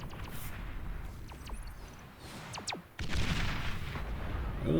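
Battle gunfire from units in the real-time strategy game Beyond All Reason, with Gunslinger units shooting: scattered sharp shots and booms over a steady rumbling din, growing denser and louder toward the end.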